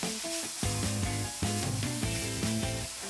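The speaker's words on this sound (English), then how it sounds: "You can hear that sizzle and see that steam coming up." Mushrooms and onions sizzle steadily in a hot pan as they saute for a veggie frittata, a continuous bright frying hiss running under prominent background music with no talking.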